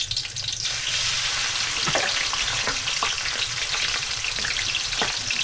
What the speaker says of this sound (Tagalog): Yan guys, nagaprito siya ng sibuyas tapos bawang. Yan ginigisa guys, piniprito